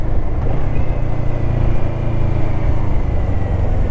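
A 2021 Kawasaki Ninja Z650 engine drones at a steady, fairly even pitch while being ridden, with wind rush close up and no talking.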